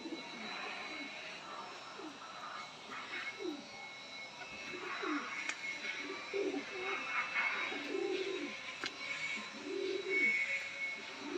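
Indian pigeons coo in repeated soft, rolling calls, several overlapping at a moderate distance over a steady background hum.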